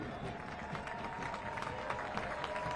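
Stadium crowd at a professional soccer match applauding a substituted home player, a steady dense wash of clapping and cheering that holds at even loudness throughout, with a public address or commentary voice faintly underneath.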